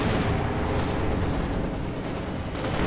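A loud, dense wartime battle in a strategy video game, with an IS-2 heavy tank advancing and firing amid continuous booming gunfire and artillery, a thick rumble filling the whole stretch.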